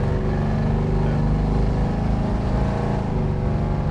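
A 1970 Plymouth Barracuda restomod with a Hemi V8 idles with a deep, lumpy, steady rumble, close and loud, pulsing evenly for the whole stretch with no voices.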